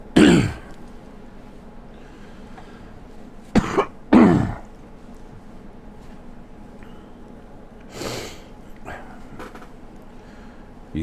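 Several coughs and throat clearings from one person indoors: a loud burst at the start, a sharp pair near the middle and softer ones later, with quiet pauses between them.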